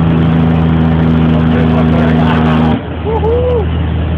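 A cargo-carrier truck engine revs and accelerates, a loud steady drone with strong low harmonics that drops off sharply near the end, then continues more quietly as people talk over it.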